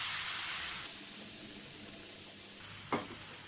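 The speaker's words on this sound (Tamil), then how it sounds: "நம்ம பால் சேர்க்குறோம்." Milk is poured into roasted semolina in a hot pan, starting with a loud burst of hissing sizzle. It quickly settles into a softer, steady simmer, and one sharp clink comes near the end.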